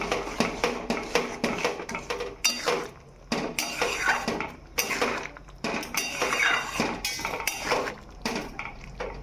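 A utensil clanks and scrapes against a pan as chili chicken is stirred over a high gas flame, with repeated metallic knocks in an uneven rhythm, close and fairly loud.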